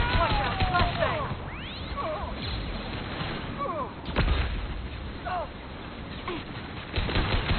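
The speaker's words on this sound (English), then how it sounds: "Watch out, flashbang!" Combat in the Mass Effect 2 video game, with a flashbang grenade going off amid a dense wash of gunfire, blasts and effects, while a character's voice calls out over the noise.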